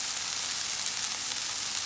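Okra fries in a pot with salt being mixed in, and a dense, even sizzle holds steadily close by without any speech.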